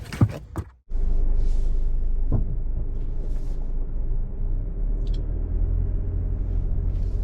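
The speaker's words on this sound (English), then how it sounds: "All right, we are in the Crosstrek and heading out of the dealership." A 2022 Subaru Crosstrek Limited pulls out of a dealership. After a few brief knocks, a steady low engine and road rumble fills the cabin, constant and fairly loud, with no talking.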